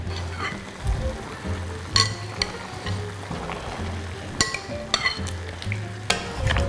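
Peeled tomatoes going into a pot of simmering Florentine stracotto beef, with wet stirring, soft sizzling and occasional sharp clinks of a spoon against the pot, close up and with no speech.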